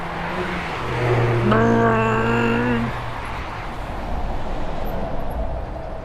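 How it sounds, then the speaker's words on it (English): Riding beside the A63 road, a cyclist hears steady traffic rumble and wind, with one vehicle's engine droning louder as it passes before fading back into the general noise. "I'm riding along the side of the A63 here, it's pretty noisy"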